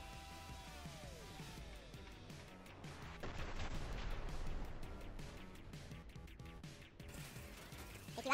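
Gunfire rattles through a GTA 5 Online shootout, a steady barrage of shots and impacts over a dense game soundscape, moderately loud and continuous for several seconds, with no talk.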